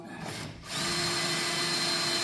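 A power drill boring through car sheet metal whirs steadily and loudly after a brief quieter start, running continuously without pause.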